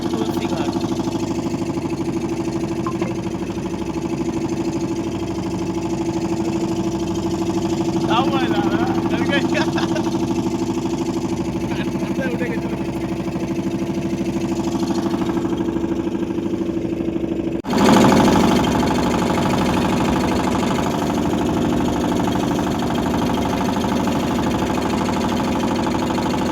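Boat engine droning steadily on the Ganges at Varanasi's ghats, a constant mid-pitched hum running throughout with a brief bump near the end, while people talk over it.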